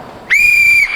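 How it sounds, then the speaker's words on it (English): A referee-style whistle is blown to start a timed 60-second challenge on a football club matchday show: a single loud, sustained shrill blast of about half a second, heard alone and cut off cleanly. "Jake, on my whistle"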